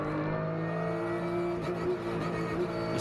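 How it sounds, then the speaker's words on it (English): Porsche and Audi race cars chase each other on a circuit during a Belcar Series 25 Hours Fun Cup round, giving a loud, steady engine drone with a slight pitch shift as they accelerate, and no voices. "With the Porsche chasing the Audi"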